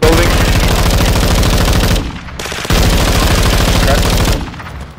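Sustained rapid automatic fire from a massive gun in the video game DMZ, loud and close, with dense repeating bursts that cut off briefly midway before resuming, then tapering near the end.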